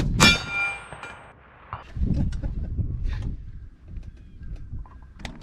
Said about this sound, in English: Just smashing that plate out there.